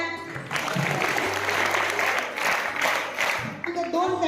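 A crowd at a school science day bursts into loud, sustained applause, dense clapping filling the room, with voices and a tonal hum mixed in beneath.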